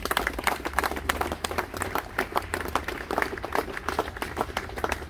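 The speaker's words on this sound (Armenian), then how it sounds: "ծափահարենք" An audience applauds at the opening of a memorial corner in Yerevan honouring a fallen war hero, with sharp individual claps in an uneven rhythm over a low hum of background noise.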